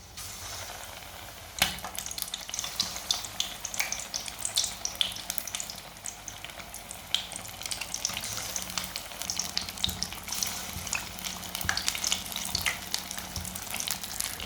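Egg kabab coated in besan batter frying in oil over a low flame, a steady fine sizzle with crackling pops running continuously, close and fairly quiet, with no talking.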